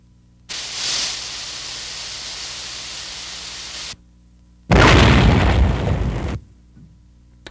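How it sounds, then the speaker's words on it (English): TNT charge detonating a buried mine at a heavily mined World War II air base in China, heard as two long bursts of harsh roaring noise separated by a silent gap, the second louder and heavier with deep rumble. "A TNT charge is set to explode a mine."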